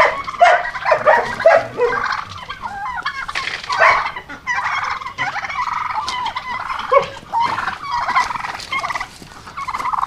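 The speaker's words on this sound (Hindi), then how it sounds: "कुछ फ्री रेंज में हैं मुर्गियां हमारे पास" Free-range Sonali-breed chickens on a poultry farm, a loud nearby flock clucking and squawking continuously, with calls overlapping throughout.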